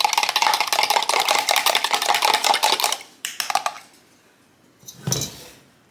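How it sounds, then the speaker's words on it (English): Egg and milk beaten together with a fork for cinnamon roll dough: quick, dense rhythmic tapping and clinking for about three seconds, then a few scattered clicks and one short scrape near the end. "So I'm just going to give that a mix"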